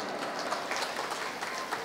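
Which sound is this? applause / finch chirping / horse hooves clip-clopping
applause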